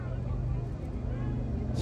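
Twin Wright Cyclone air-cooled radial engines of a B-25 bomber, 1,700 horsepower each, drone steadily at an airshow, a continuous low throbbing roar with wind buffeting over the microphone.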